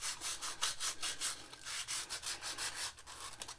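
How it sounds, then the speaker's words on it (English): Fine 220-grit sandpaper, a pad meant for an orbital or DA sander, is rubbed by hand over a part of a 1969 Mustang that sat for 15 years, giving steady back-and-forth rasping strokes, close and soft. "fine sandpaper and lightly rub it evenly, it'll clean it up real good"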